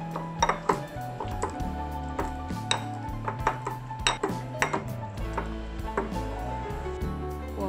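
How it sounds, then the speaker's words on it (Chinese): Dragon fruit being crushed in a bowl, with a utensil knocking and clinking against the bowl in repeated irregular taps over a low background hum. "将火龙果放入碗里，将火龙果压碎，让果汁流出来。"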